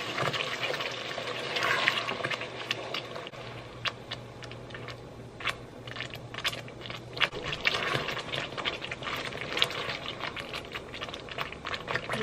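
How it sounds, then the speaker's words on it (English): Orange juice is poured into a pan while cooking a sauce for fried chicken, giving a soft, steady splashing and trickling with faint clicks and bubbling throughout. "Now I'm going in with my orange juice."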